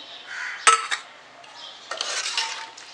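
A utensil stirs white peas and potato in a cooking pot, giving a sharp metallic clink followed by scraping and shuffling sounds, close and moderately quiet.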